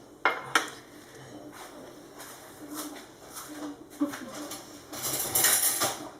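Cutlery clinks and rattles as a fork is fetched in a home kitchen during baking, with scattered sharp metallic taps and a busier clatter near the end, fairly close and moderately loud.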